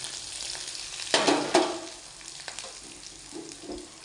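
Coconut pieces, dried red chillies, onion and curry leaves fry in a pan for beef curry, a close, steady sizzle broken by two sharp clatters early on and lighter stirring scrapes after.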